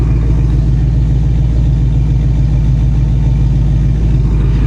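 A Foxbody Mustang GT engine runs at a steady idle, loud and close, with a constant low rumble and no change in pitch throughout.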